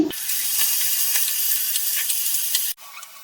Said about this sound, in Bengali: এক এক করে চিকেনটা ভেজে নিচ্ছি